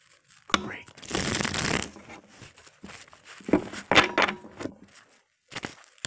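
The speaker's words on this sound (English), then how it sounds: "Let me shuffle this up one more time." A deck of tarot cards being shuffled by hand, giving several crisp riffling bursts and soft slaps at close range, separated by short pauses.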